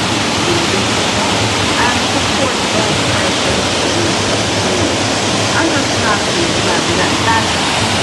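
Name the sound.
river water rushing down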